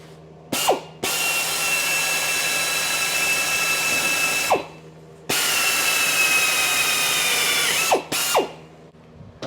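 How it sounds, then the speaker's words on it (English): A power drill bores holes into the rubber bushing of a GM upper A-arm, running loud and steady in two long bursts with short pauses and brief spin-up and spin-down whines between them. "I'm going to drill a hole here and here"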